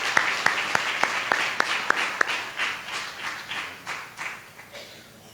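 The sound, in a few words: congregation applauding to welcome a speaker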